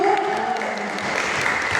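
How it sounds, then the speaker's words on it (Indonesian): Clapping from an audience of teachers at a training workshop, a short burst of dense applause with a voice faintly underneath. "Tepuk tangan dulu dong, Bapak Ibu"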